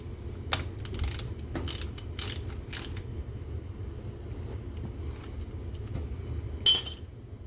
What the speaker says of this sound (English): So we're just going to go ahead and tighten it right now.